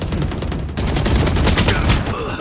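Rapid bursts of automatic gunfire in the shooter game Valorant, dense overlapping shots close and loud, with a player shouting over the firing.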